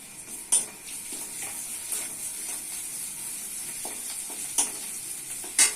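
Sliced onion and ginger-garlic paste fry in hot oil, giving a steady crackling sizzle with a few louder stirring clinks and scrapes of a spoon against the pan.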